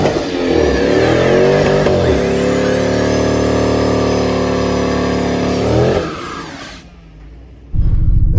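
A car's engine revs hard and holds high during a line lock burnout as the wheels break traction, the loud sustained roar dropping away abruptly near the end before a brief low rumble returns.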